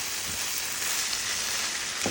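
Carrot poriyal, a South Indian carrot stir-fry, sizzles in a pan with a dense, steady hiss, marked by a couple of brief stirring scrapes.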